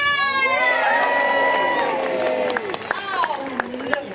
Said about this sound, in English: Let's give my crew a big cheer!